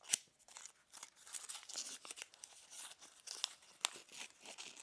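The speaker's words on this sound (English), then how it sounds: "let's go ahead and unwrap this bar" Crinkling and tearing of a Godiva salted caramel milk chocolate bar's wrapper as it is opened, close and soft, with scattered crisp rustles and a few sharper snaps.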